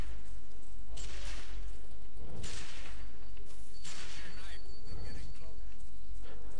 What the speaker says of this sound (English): And why are you still shooting?